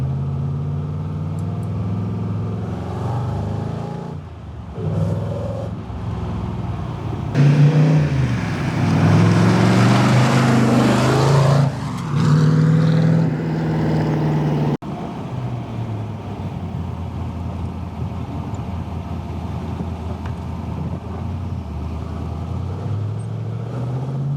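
A 1965 Ford Performance Shelby Cobra stroker test car drives and runs through its gears, its engine note rising and dropping with each shift, loudest in the middle stretch before settling into a steady cruising rumble with road noise.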